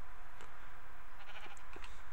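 Sheep bleating inside a Minecraft pen, a few short game-style bleats popping out at intervals over a steady background hiss and ambient game sound, fairly faint.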